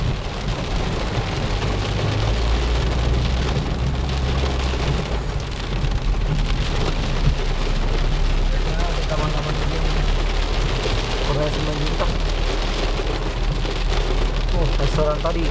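Steady rain pours down on a street in East Jakarta, a dense continuous hiss throughout with low traffic rumble and occasional voices underneath.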